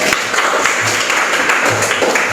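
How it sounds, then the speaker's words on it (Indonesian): A group applauds for Kenny at a classroom teaching session, steady loud clapping filling the short moment, close and continuous without pauses. "kita berikan aplaus untuk Kenny"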